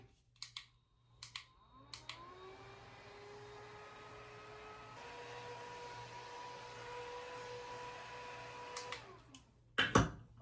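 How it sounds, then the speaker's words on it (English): Small electric fan spinning up with a rising whine that settles into a steady hum with airy whoosh, broken by a few sharp clicks and handling knocks near the start and end. "And my fan."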